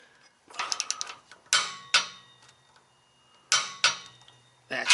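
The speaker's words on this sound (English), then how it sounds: "we got the torque wrench set to 45 foot-pounds, and we're going to torque all the clamps down" Sharp metallic ratchet clicks come in bursts from a torque wrench set to 45 foot-pounds, tightening the exhaust clamps of an X-pipe install on an Alfa Romeo Giulia Quadrifoglio, with quiet gaps between strokes.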